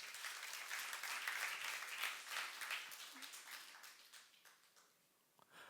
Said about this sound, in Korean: 나와 있는 걸 믿는 사람만 박수 한번 쳐봅시다.